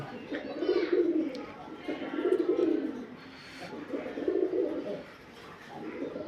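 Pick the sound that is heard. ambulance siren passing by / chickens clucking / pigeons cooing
pigeons cooing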